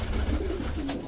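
Pigeons coo in a low, soft, continuous murmur, steady across the whole short stretch with no other clear sounds.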